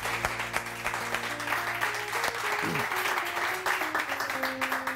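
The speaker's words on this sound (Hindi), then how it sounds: "बहुत सारी तालियां जी" Steady clapping from a crowd fills the clip, a dense continuous patter of applause with a sustained tone humming underneath.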